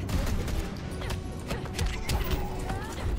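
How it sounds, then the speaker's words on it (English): Rapid bursts of gunfire hit in a fighting-game tournament match of Injustice 2, with sharp cracks in quick succession over a busy mix of impacts and game effects. "getting lit up though with those gunshots"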